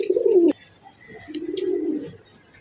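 Two bursts of throaty cooing from a pair of Adana dewlap pigeons, one short and loud, then a longer rolling coo after a brief gap, close and clear with no talking.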